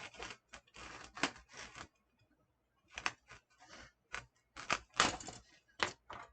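A serrated knife saws through decorative deco mesh in quick, close, scratchy strokes, grouped in bursts with a short pause midway.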